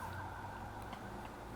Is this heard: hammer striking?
no